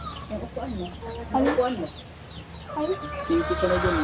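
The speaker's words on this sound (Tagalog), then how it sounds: "Ang ingay nung mga manok." Chickens clucking close by in irregular bursts, with a few louder squawks and some faint background talk.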